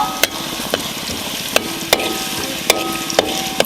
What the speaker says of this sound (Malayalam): ഇഞ്ചി ഒന്ന് കുറച്ച് നേരം ഒന്ന് ആകുമ്പോഴത്തേക്കും ചുവന്ന് വരണോ ആ ആ ഒരു ബ്രൗൺ കളർ ആയിക്കോട്ടെ